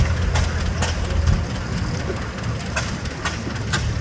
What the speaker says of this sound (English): kerosene tractor, manufactured in 1920 by the Deere and Company of Waterloo, Iowa